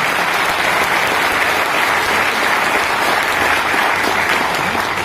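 A seminar audience at a direct-selling training event claps in a dense, steady wash of applause, loud and close, with no voices above it for the whole stretch.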